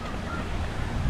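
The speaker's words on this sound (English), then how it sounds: "30 to 40 mile an hour gusts of winds here." Strong gusting wind buffets the microphone outdoors on a clear, dry day at Championsgate, Florida, a steady low roar with slight surges and no voices.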